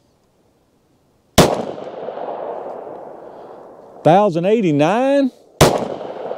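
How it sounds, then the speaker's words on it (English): Two sharp, loud gunshots from a Glock 27 pistol firing Gold Dot rounds, well spaced, each with a ringing decay, and a person speaks briefly between them. "We'll run a 5-round average through each barrel length, starting with the Glock 27 first."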